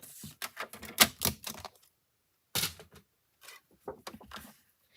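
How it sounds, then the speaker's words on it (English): A paper trimmer slices an edge off cardstock, heard as a cluster of crisp, close clicks and scrapes, a pause, then a few more sharp clicks. "I am going to bring in my paper trimmer because I am going to trim off that one little edge."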